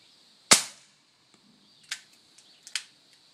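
A suppressed Nagant revolver fires one 110 grain bullet under an awning: a single sharp, muted crack, followed by a few fainter clicks and small snaps.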